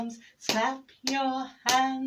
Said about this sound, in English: Clap your hands and stroke your arms.